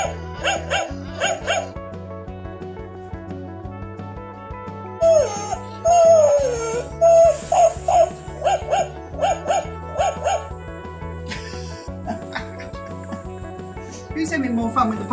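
A rescue puppy lets out a series of short barks, whimpers and drawn-out howls, close and clear, against a steady low musical background, with people talking now and then.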